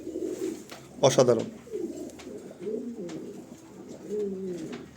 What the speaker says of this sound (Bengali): এদের ঠোঁট, এদের পা এবং এদের চোখ তাদেরকে অন্যান্য কবুতর থেকে আলাদা ইউনিক করে তুলছে